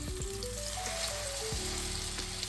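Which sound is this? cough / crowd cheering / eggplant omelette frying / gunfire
eggplant omelette frying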